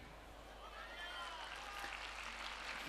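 School annual function audience gives continuous, fairly even applause, a dense steady wash of clapping with faint voices mixed in.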